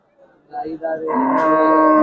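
A Murrah buffalo at a cattle market lets out a long, loud, sustained moo close by, rising after a couple of shorter grunts.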